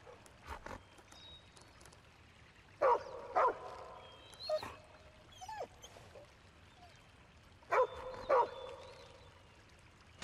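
A dog barks in short bursts in the video game Nightmares from the Deep 3, a few sharp yips spaced across the scene over soft ambient game audio.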